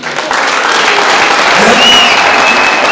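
Audience applause fills a church service at Nyamataro PAG in Kisii, Kenya: dense, steady clapping from many hands that starts abruptly and keeps going at an even, loud level right to the end.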